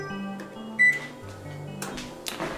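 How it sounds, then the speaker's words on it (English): An oven is switched on to preheat: a sequence of electronic beeps and tones from its control panel, one louder beep standing out, followed by faint clicks and rustling nearby. "the next thing I should do is preheat the oven"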